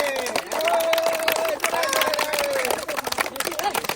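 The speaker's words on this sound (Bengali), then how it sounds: "জোরে তালি দাও" A group of people clapping loudly at a gathering in Madhyanagar, Sunamganj, with rapid claps mixed into lively overlapping voices and shouting.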